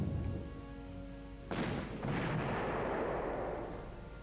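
Artillery barrage in a WWII strategy game set in Berlin: a sharp blast of incoming fire erupts midway, followed by a rumbling roar that trails off, over faint steady background tones.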